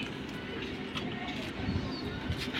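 A pair of silver bezi pigeons coo in low, soft murmurs that rise and fall beneath a steady, noisy background, with a few fuller coos toward the end.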